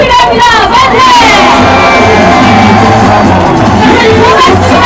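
A packed crowd at a presidential campaign rally at COEX in Gangnam cheering, shouting and whooping, loud and sustained, with a amplified voice riding over the roar.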